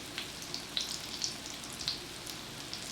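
Food frying in a pan for a collard sandwich gives a soft, steady sizzle, close by, with scattered bright pops and crackles breaking through the hiss.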